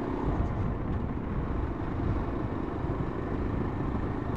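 A Yezdi Adventure motorcycle being ridden on a potholed road, a steady low engine drone mixed with wind rush that stays even and moderately loud throughout, with no talk.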